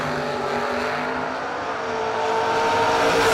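A Camaro drag racing down the strip at a bracket racing event, its engine a loud, continuous roar held flat out close by, swelling slightly toward the end.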